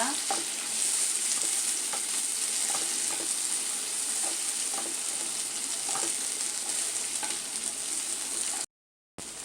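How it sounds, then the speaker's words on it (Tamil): Thinly sliced onions sautéing in hot oil in a pan, a continuous close sizzle with soft regular scrapes of a spoon turning them, cutting out briefly near the end. "இதை நல்லா வதக்கிடுங்க."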